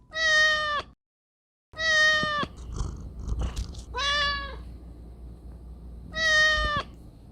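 A house cat meows loudly four times, each call clear and close with short pauses between, and quiet shuffling and mouth noises in the gaps.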